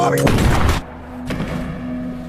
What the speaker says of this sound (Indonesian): amarah Jack tidak dapat terbendung lagi dan langsung menembak Bobby tepat di dadanya.